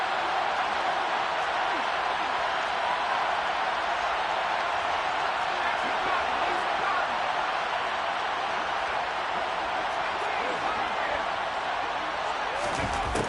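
A packed football stadium crowd roars steadily and loudly ahead of a big third down, a constant wall of noise with a commentator talking over it.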